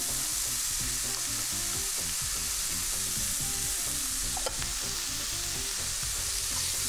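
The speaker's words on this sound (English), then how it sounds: "Just going to give this a quick fry." Turkey bacon and onion fry in a nonstick pan with no added oil, a steady close sizzle and crackle running throughout, with a brief clink of a utensil partway through.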